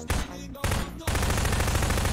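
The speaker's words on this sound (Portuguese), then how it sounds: "Vou dar um tiro nele." Gunfire in the Skibidi Toilet video game: a loud burst of rapid automatic shots, a short pause, then a longer sustained volley of fast repeated shots close up with no talking.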